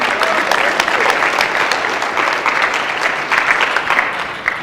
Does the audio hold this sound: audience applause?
yes